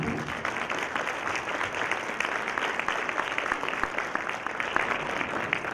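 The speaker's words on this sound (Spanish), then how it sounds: "Le voy a pedir un fuerte aplauso" An audience at a national research congress gives a steady round of applause for a conference speaker, many hands clapping evenly throughout without a break.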